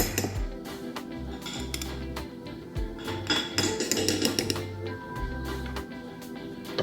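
Metal whisk clinking and scraping against a bowl while king crab imperial is mixed, a quick run of light taps and rattles with low background hum, no talking.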